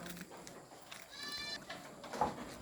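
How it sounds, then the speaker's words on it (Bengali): Sheep bleating at a sheep farm in Malaysia, a few calls rising over steady background noise, one louder, closer bleat near the end. "এই হচ্ছে ভেড়ার খামার"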